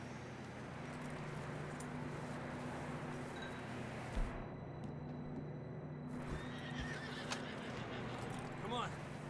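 In the video game Red Dead Redemption 2, a horse whinnies and hooves clop over a steady low rumble, with voices talking in the background.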